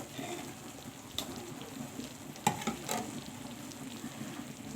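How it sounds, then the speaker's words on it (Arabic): Tomatoes fry in a pan with a soft, steady sizzle, broken by a few sharp clinks and scrapes as they are stirred, close and fairly quiet. "هفضل بقى ان انا اقلب فيهم بقى كده لحد الطماطم ما تتسبك خالص"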